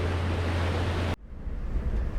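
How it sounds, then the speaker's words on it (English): Big sea waves rushing against a Nordhavn 47 motor yacht at sea, a loud, continuous wash of water with wind noise that suddenly drops away partway through and then swells back. "quite big waves."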